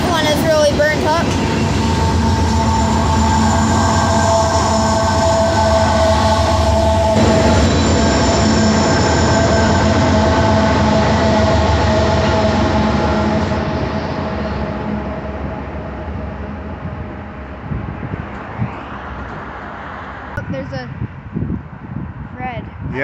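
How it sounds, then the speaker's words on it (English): A long Norfolk Southern freight train rumbles past close by, wheels clattering and squealing steadily before the roar gradually fades into the distance; voices speak over it. "that train that just passed us"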